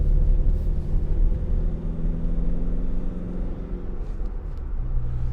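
Steady low engine and road rumble from a 2019 Ford Transit Custom 2.0 TDCi 300 L2H1 Trend van driving around a corner, a constant close-up cabin drone with no talking.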